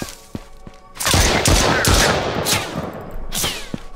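Rapid bursts of gunfire crackle loudly in the zombie game Outbreak, a dense fusillade of overlapping shots building after a quiet start, then thinning into scattered single cracks toward the end.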